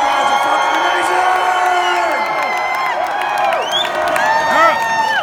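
A large concert crowd in Denver cheers, whoops and shouts continuously at a show, a dense, loud roar of many voices with scattered high yells.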